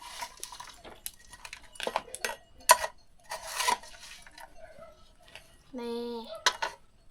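A ladle scoops food out of a metal pot, with scattered clinks and scrapes of metal on metal up close, a few louder knocks, and a short voice sound near the end.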